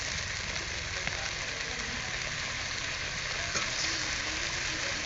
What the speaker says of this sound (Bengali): কিছুক্ষণ মশলা কষিয়ে নেওয়ার পরে এর মধ্যে দিয়ে দিচ্ছি কেটে রাখা টমেটো